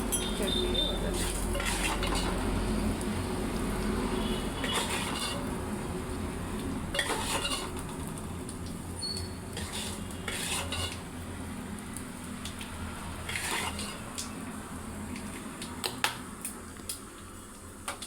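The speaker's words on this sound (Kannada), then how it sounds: "ಚಟ್ನಿಗೆ ಒಗ್ಗರಣೆ" A spoon scrapes and clinks against a pan while tempering (oggarane) for chutney is fried and stirred, with irregular metallic taps over a steady low kitchen background.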